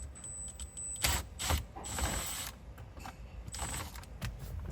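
Metallic clicks and ratcheting from a tool working a screw loose inside a Kia Sorento center console, close and quiet, a few sharp clicks and a scraping burst with no talking.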